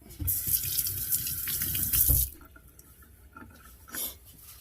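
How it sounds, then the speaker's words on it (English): Tap water runs loudly over a carrot being washed in a sink for about two seconds, then stops, leaving faint handling sounds and a brief final splash. "Let me wash my carrot."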